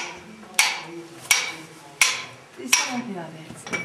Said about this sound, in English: chipping a hole using only a hammer and a mole